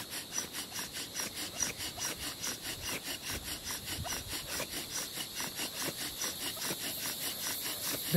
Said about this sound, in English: Now I will attempt to make a friction fire by rubbing two sticks together with a bow drill.